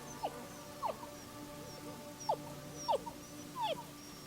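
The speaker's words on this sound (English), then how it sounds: "What is that sound? Oh my god. It's a tiny dog." Tiny, high-pitched yips from a tiny dog in the video game Just Cause 3 repeat at irregular intervals, small and thin like a toy-sized dog, over a steady low background hum.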